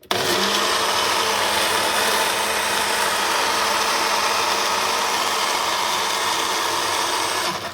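A Ninja Fit Compact Personal Blender runs at full speed, a loud, constant motor whir with a sharp start and a slight drop at the end, close and uninterrupted by speech.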